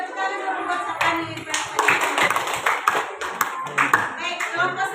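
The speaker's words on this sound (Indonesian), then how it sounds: "kasih tepuk tangan dulu buat Sapani" A classroom of students claps for a classmate named Sapani after a presentation on advertising, slogans and posters; a short, dense burst of hand claps mixed with voices chattering throughout.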